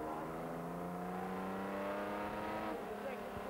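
Aston Martin race car at the Goodwood Festival of Speed, its engine droning steadily at a high, even pitch from inside the car, with a slight change in tone near the end and speech faintly underneath.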